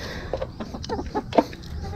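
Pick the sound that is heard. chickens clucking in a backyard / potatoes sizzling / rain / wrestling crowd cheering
chickens clucking in a backyard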